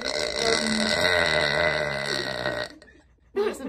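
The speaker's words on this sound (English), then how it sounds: "That was a big burp." A big, long burp, loud and close, rumbling on for almost three seconds before cutting off, followed by a brief voiced sound.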